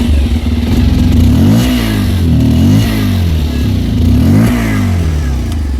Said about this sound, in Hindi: तो कुछ इस तरह का साउंड करती है हमारी ये पुरानी वाली पल्सर 125 की एग्जॉस्ट।